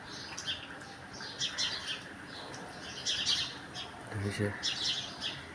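Birds chirp and squawk in repeated bursts while being fed, with a person talking over the calls.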